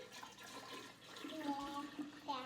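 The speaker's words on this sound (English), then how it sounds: "And we're gonna pour this tea" Tea pours steadily into a gallon glass jar with a hollow, rising gurgle, close by and soft, lasting a couple of seconds.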